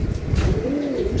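Birds pass overhead, with a short, close pigeon-like coo rising over outdoor background rumble.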